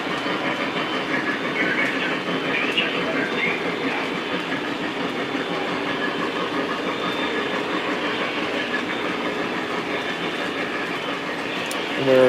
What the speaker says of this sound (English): We got our switcher coming into the yard here, our yard lead.